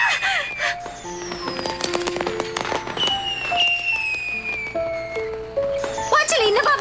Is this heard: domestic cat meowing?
no